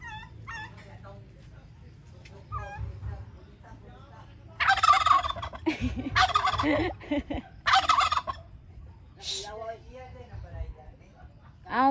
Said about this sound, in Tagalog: maning pabo diri guys